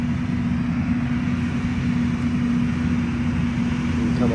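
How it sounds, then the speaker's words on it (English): A tractor pulling a grain cart during a soybean harvest gives a steady, droning engine hum with a constant low tone, continuous and fairly loud throughout, with no talking. "So here comes the grain cart."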